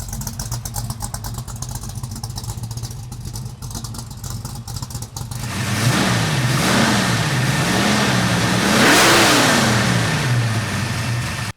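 Low idle of a 1964½ Ford Mustang with Flowmaster FX exhaust, then a louder run of several rhythmic revs that rise and fall in close succession before the engine drops back toward idle.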